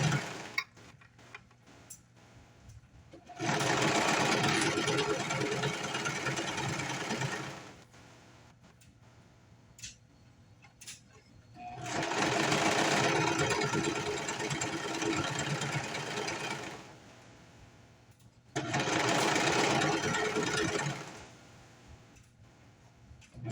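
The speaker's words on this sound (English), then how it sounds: "we're just going to stitch around the edge using the serger" A serger sewing machine stitches around a fabric edge while making a cat headband, running in three loud, steady bursts of several seconds each with quiet pauses between.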